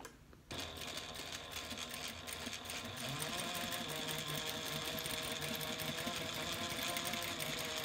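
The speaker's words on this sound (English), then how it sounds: "Now, I'm just going to flip it around, and we're going to sew the other side, same direction." Following a brief pause, a sewing machine with a fresh needle and full bobbin runs continuously at a steady, even hum while quilting the exterior panel of a handbag; the motor stays close and unbroken with no voices.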